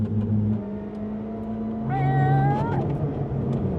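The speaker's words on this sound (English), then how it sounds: "You could hear the engine, but it's not overly loud" A Mercedes C111 sports car engine hums at a steady idle, with a short rising whine partway through as it revs, moderately loud and close.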